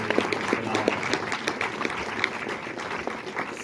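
Audience applause for a film's cast at a discussion event, steady scattered clapping with sharp individual claps, moderately loud and sustained without a clear end.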